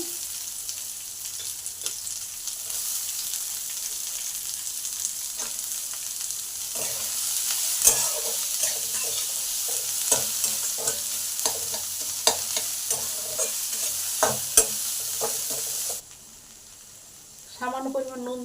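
Chopped chillies and onion fry in white oil for egg chilli, a steady close sizzle with frequent spatula scrapes and stirring clicks, easing to quieter hiss near the end.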